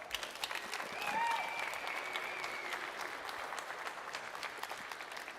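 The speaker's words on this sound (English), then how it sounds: "Please join me in giving the team a round of applause." A crowd at a Madden and College Football 27 reveal applauds steadily throughout, a dense wash of clapping at moderate distance with a faint whistle or cheer early on.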